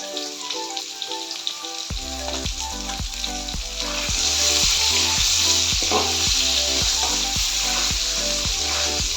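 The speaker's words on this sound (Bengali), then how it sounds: "আলুটা ভাজা হয়ে গেছে" Steady, loud sizzling of potatoes with salt and turmeric frying in hot oil, with a rhythmic series of scraping stirs against the pan; the sizzle swells louder partway through.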